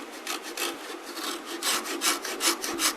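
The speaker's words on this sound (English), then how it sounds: "I'll just hit it with some sandpaper" A wooden divider for a bombe secretary is sanded by hand with sandpaper. Close, rhythmic rasping strokes repeat steadily, each a brief broad scratch that grows slightly louder toward the end.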